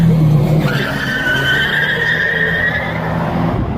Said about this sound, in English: I'm driving this Batman-mobile.